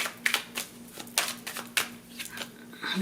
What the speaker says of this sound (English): Let me take my oracle cards and shuffle here for this.